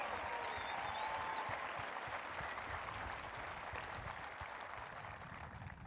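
Steady, fairly faint applause from a large graduation crowd honoring the Rock Canyon High School class of 2020, a dense unbroken patter of many hands lasting several seconds.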